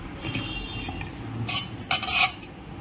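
A spoon stirs fish pakodi batter in a bowl, making soft wet mixing sounds followed by a burst of sharp metallic clinks and scrapes against the bowl near the end, with no voices.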